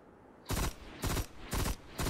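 Gunfire from Destiny: Rise of Iron comes in four evenly spaced loud bursts, each a sharp blast lasting about a quarter second, with a quiet gap between them.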